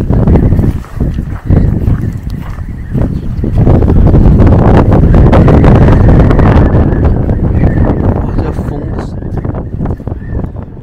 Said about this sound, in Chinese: 虽然风很大